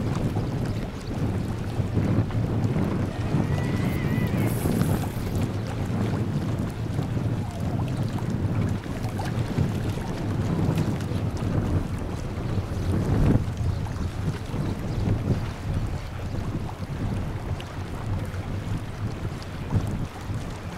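A boat out on open water near Karpathos, with steady wind buffeting the microphone and low engine or hull rumble continuing throughout, plus occasional splashing of waves; no talking.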